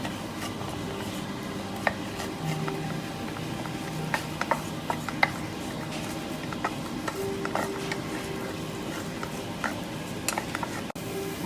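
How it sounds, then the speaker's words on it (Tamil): Onions fry in a pan for dal curry, giving a steady soft sizzle with scattered light clinks and scrapes of stirring. "வெங்காயம், நல்லா தாளித்து கொள்வோம்."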